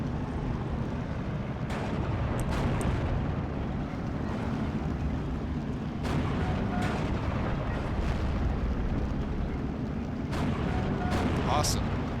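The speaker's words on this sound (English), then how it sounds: "these guys are free to open fire and help suppress these enemy positions" Steady rumbling battle ambience from a WWII German tank game with the 16th Panzer Division, sharp gunshots and muffled explosions scattered throughout over a constant low engine roar.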